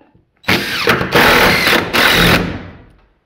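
An oscillating multi-tool runs in short loud bursts, three close buzzing spurts with brief gaps between them, then winds down to silence.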